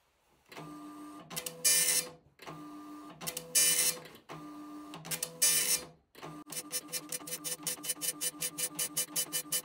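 A retro dot-matrix style printer whirs and chatters through several lines, printing each line twice, with short pauses between passes, then a fast rhythmic buzzing burst at the end.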